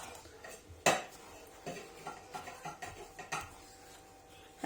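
Sahlab ingredients are stirred together in a pot, with a sharp clank of a spoon against the pot followed by a run of softer scraping and knocking strokes, close by and fairly quiet.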